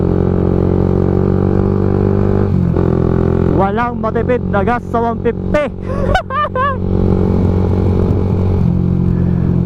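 A Raider 150 motorcycle idles with a steady engine drone, then revs repeatedly in quick throttle blips, and someone talks over the engine.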